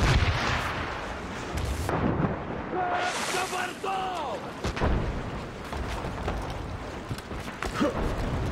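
Cannon fire during a naval battle in Assassin's Creed Rogue, heavy booming blasts and rumbling gunfire mixed with game sound effects and shouting voices, loud and dense throughout.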